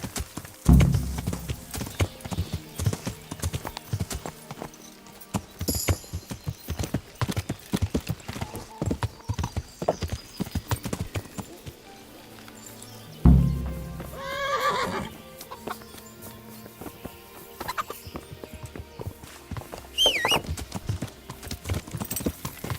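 In the Kingdom Come: Deliverance video game, a horse's hooves clip-clop in irregular bursts while it neighs and whinnies several times, close and moderately loud.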